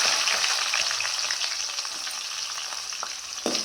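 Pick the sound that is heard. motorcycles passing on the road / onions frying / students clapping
onions frying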